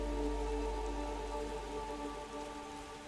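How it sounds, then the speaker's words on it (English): Rain falls from a rain cloud in The Gardens Between video game, a soft, even patter of drops on surfaces over sustained musical tones, holding steady throughout. "And we are heading into the rain cloud."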